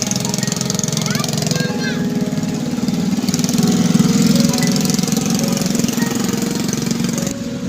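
A ride-on engine at a Rawalpindi amusement park revs steadily and loudly, a continuous mechanical drone that swells slightly midway, with voices and background crowd noise mixed in.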